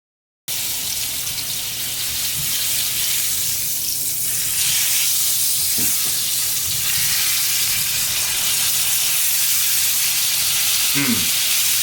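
Steak frying in a pan, a steady broadband sizzle and crackle running throughout, loud and close, with a few small clinks and scrapes as the meat is handled.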